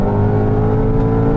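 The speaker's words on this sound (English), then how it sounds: "The sports exhausts are turned on, and oh boy, what a sound." A Mercedes-AMG GT 4-Door Coupe from 2020, its 4-litre V8 bi-turbo running through the sports exhaust, revs with a loud, steady, dense engine roar that holds throughout.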